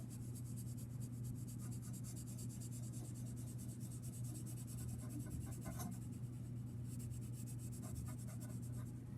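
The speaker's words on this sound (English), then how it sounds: "I'm just laying down more pencil." Ebony pencil shading on paper, a steady, quiet graphite rasp of strokes rubbing continuously across the sheet, unbroken by talk.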